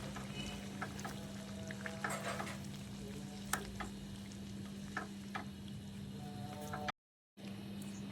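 Onion, tomato and green chilli paste for chicken curry stirred in a pan, a soft continuous sizzle with light spoon scrapes and taps over a steady low hum, broken by a brief silence near the end.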